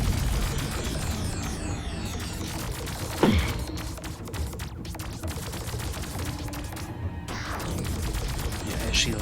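Beam weapons firing in the space strategy game Star Drive 2, with dense rapid zapping pulses and sweeping whooshes, plus a sharp impact burst, over a continuous combat din.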